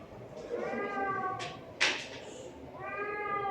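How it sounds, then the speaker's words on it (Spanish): A small cat meows repeatedly at close range, several drawn-out tonal meows with a short gap in the middle, alone with faint room background. "Un gatito quiere hablar también."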